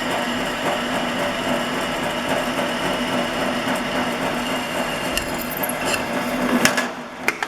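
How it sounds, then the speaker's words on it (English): A drill cuts a 3mm hole for an engineering drill gauge, a steady humming motor whine that runs unbroken and then breaks into a few sharp clicks and a brief louder surge at the end. "so we can also drill that one."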